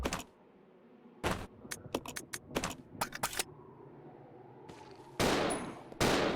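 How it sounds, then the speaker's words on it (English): Shotgun blasts in a video game, a run of sharp, loud reports in quick bursts with gaps between them, followed by a couple of heavier broad blasts at the end. "Shotgun."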